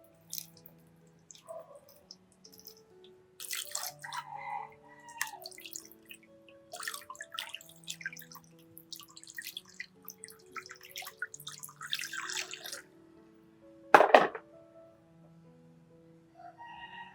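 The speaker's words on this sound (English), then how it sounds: "You wash this leaf with water." Water trickles and drips as an orchid leaf is washed by hand, faint intermittent splashes and drops in a quiet room, with one sharper splash near the end.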